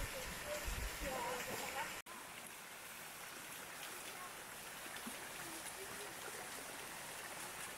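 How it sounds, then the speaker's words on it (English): Steady, broadband rush of a waterfall in the Eifel, Germany, heard close and continuous, with a brief cut partway through. "That was one of the most beautiful waterfalls I've ever seen in my life."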